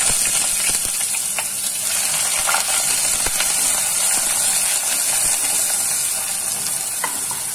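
Chopped onions sizzle and fry in a kadhai over medium-high heat while cooking kadhai paneer, a steady bright hiss with occasional stirring clicks and scrapes, loud and close, no voices.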